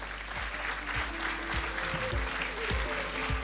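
Applause at a university engineering faculty's 60th anniversary ceremony, a steady, moderately loud clapping from the audience sustained throughout, with low booming thumps under it.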